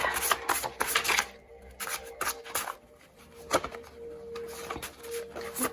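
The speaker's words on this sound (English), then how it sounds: "I want to just shuffle some my infinite wisdom deck." A tarot-style wisdom card deck being shuffled by hand, with repeated riffling and rustling bursts at a close, moderate level.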